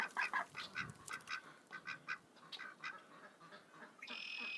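A pet duck in a backyard pen quacking in a quick run of short, raspy calls, close and fairly quiet, ending on a steadier drawn-out note.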